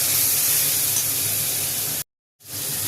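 Spice paste mixed in water and slit green chilies hit hot oil with fried taro, giving a loud, steady hissing sizzle that breaks off briefly near the end and then resumes.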